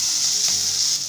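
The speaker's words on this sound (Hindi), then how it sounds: "अब इसे चेक करते हैं, थोड़ा चला लेंगे," Potato sabzi sizzles and fries steadily in a pan as it is stirred, a continuous close crackle with a brief scrape of the spoon midway and no talking.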